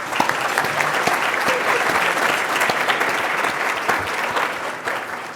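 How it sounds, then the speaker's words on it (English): Seated audience at a public policy conversation event gives a sustained round of applause for sponsors, a full, dense wash of many hands clapping with sharp individual claps standing out, steady throughout before tapering slightly at the end. "giving our sponsors and underwriters a nice round of applause"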